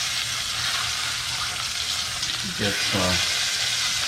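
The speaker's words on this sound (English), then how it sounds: "So we're just going to get it lightly seared on the outside." Chicken searing in a hot pan gives a steady, close broadband sizzle throughout, with a brief spoken word and a little voice near the end.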